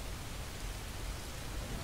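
Steady rain falling, an even hiss of drops with no breaks, moderately quiet and alone without voices.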